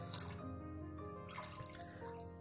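A synthetic shaving brush wetted under running water at a sink, with faint splashing and drips over a tonal hum, quiet and close with no talking.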